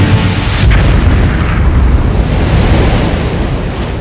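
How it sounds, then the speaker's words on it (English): A meteorite airburst over the Abruzzo Mountains is rendered as a sustained, loud, deep roaring blast with rumbling low end and crackling bursts, continuous throughout without talk. "There was an enormous explosion, probably in the air, as bright as a second sun."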